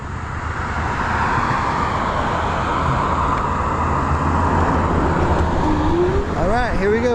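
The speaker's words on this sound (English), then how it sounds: "Got a car coming, a couple cars coming." Cars pass on a road beside a dual-motor ebike, giving a steady, loud rush of tyre and engine noise that swells through the clip, with a voice breaking in briefly near the end.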